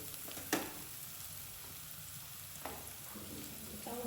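Onion and garlic paste fry in a pan with a soft, steady sizzle, broken by a couple of sharp clinks from a stirring utensil against the pan.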